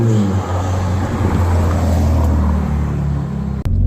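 A Ferrari Roma Spider's engine rumbles loudly and steadily as the convertible pulls away, a deep sustained drone with a brief dip near the end.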